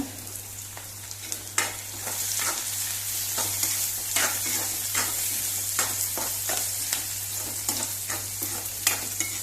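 Green chillies sizzle and fry in hot oil in a pan with onions, for a Goan-style chicken dish, with steady crackling and repeated scraping stirs at a close, even level.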